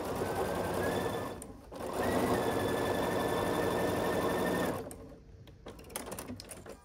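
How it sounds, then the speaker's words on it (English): Sewing machine stitching across unpressed easy corner triangles on a quilt block, a steady close whirring run broken by a brief pause, then another long run and a few short bursts at the end. "And we're going to sew across this."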